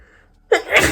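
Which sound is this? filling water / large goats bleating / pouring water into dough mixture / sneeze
sneeze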